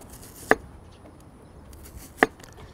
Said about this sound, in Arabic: هقطع البصل حلقات